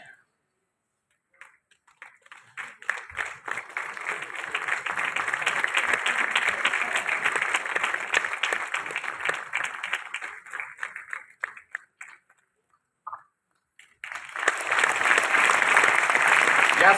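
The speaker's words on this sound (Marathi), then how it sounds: "सर्व कलाकारांसमवेत जोरदार टाळ्या त्यांच्यासाठी नक्कीच वाजल्या पाहिजेत" A theatre audience at a Marathi musical drama claims applause for the cast, a long swell of clapping that builds, dies away, then bursts up again loudly near the end.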